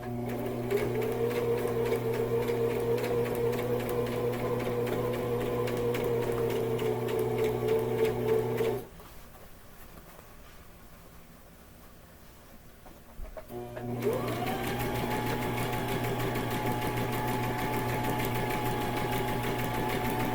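A sewing machine runs steadily through folded fabric in a loud, close, even whir. It stops for about four seconds, then starts again at the same pace, with no talking.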